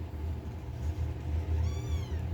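Hungry newborn kittens give a brief, thin meow over a steady low rumbling background, with no talking.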